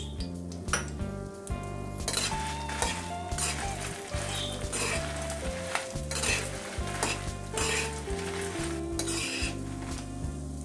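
Coriander seeds, cumin and dried red chillies dry roasting in a pan, heard as steady close sizzling and rattling with repeated stirring scrapes and light utensil clinks, with no speech.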